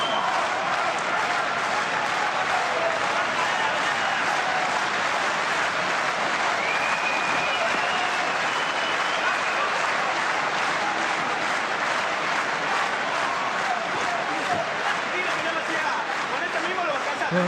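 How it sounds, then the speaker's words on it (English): Crowd at a boxing match clapping in a steady rhythmic beat, a dense continuous wash of many hands filling the whole stretch with a commentator's voice running over it. "trying to entertain themselves with a bit of rhythmic clapping"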